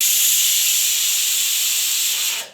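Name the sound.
pressure cooker whistle releasing steam while cooking rice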